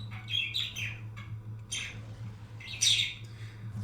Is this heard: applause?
no